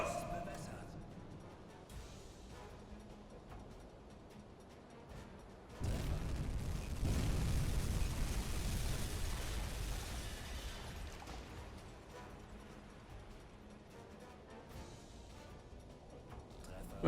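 Torpedo hits on ships in the naval submarine game UBOAT set off a deep rolling boom partway through, swelling into a long, loud low rumble that slowly fades back under steady background noise.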